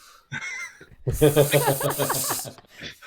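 A person imitates a snake with a loud, breathy hiss during a tabletop fantasy role-playing game session, following a brief stretch of talk and trailing off near the end.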